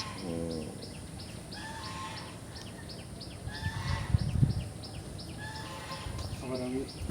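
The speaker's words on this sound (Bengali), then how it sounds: "দেখো এখানে হাঁস" Ducks near a pond give a few short quacking calls at the start and end, heard moderately close amid outdoor ambience, with people talking in between.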